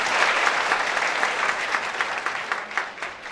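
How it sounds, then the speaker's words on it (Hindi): Students clapping to welcome guests at a government college smartphone distribution event, a steady, dense round of applause from a large indoor crowd that thins slightly toward the end. "हमारे छात्र छात्राएं ताली बजाकर उनका अभिवादन करें"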